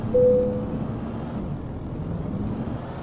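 A DAF XF truck engine revs in first gear in Euro Truck Simulator 2, a low, steady rumbling drone with a brief tonal whine at the start, heavily loaded at the foot of a hill.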